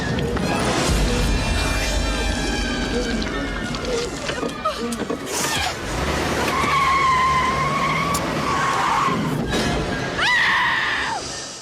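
A car reversing and braking hard, its tires skidding with long squealing screeches that recur across the stretch, loud and close, mixed with screams and shouting voices.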